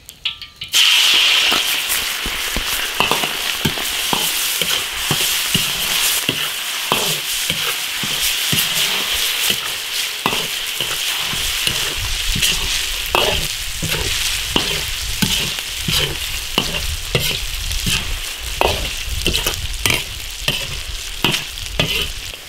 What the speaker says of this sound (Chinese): 加入五花肉煸炒